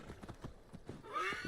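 A horse in the game Assassin's Creed: Wrath of the Druids trots along with quick rhythmic hoof clip-clops, then gives a brief whinny near the end, fairly faint.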